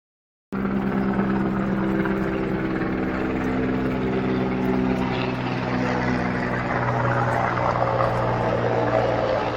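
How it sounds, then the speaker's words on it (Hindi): An Indian Army Mi helicopter drones steadily and loudly over a search and rescue site in Harsil valley, its rotor and engine throbbing continuously as it passes nearby, with no voices. "आज के दिन का ये पहला हेलीकॉप्टर है इंडियन आर्मी का MI"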